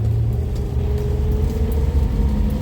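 A car with standard steering pulls away in first gear, giving a close, steady low engine drone that holds evenly throughout with no talk over it.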